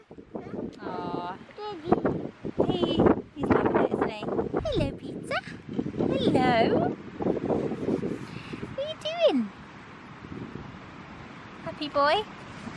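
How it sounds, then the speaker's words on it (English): Strong wind blows outdoors in a garden, rumbling gusts buffeting the microphone in waves beneath frequent talking and a few higher vocal sounds. "It's pretty windy."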